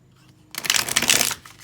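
A deck of cards is riffled in a single dense burst of crisp flapping and ruffling that lasts about a second. It is close and moderately loud after near silence, with no voices.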